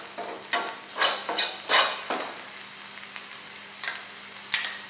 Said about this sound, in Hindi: अभी हम उसमें एक चॉप्ड गार्लिक डालेंगे और उसको सौते करेंगे.